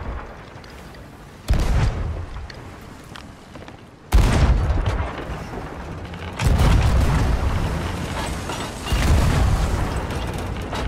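Ship cannons firing in the pirate video game Sea of Thieves, a series of deep booming blasts in quick succession, each sudden loud report followed by a rumbling tail.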